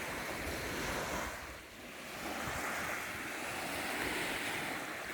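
Sea waves wash onto the shore in a steady broadband roar mixed with wind noise on the microphone, easing briefly in the middle before swelling again, with no voices.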